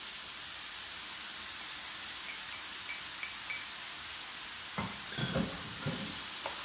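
Tomatoes and coriander are stirred in a pan under a steady soft sizzle and hiss, with a few nearby scraping stirs near the end.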